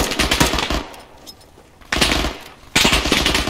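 Rifle gunfire in the ArmA 3 video game: rapid bursts of automatic shots, loud and close, with a quieter lull between the bursts and no talk over them.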